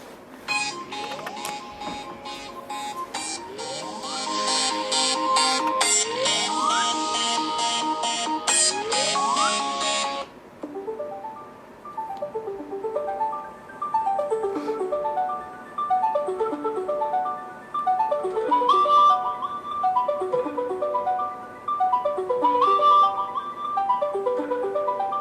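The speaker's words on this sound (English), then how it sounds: "I didn't realize they had new ringtones." New iPhone ringtones from iOS 17 play one after another, close and clear. Bright melodic chimes with rising arpeggios repeat in short looping phrases with brief gaps between them.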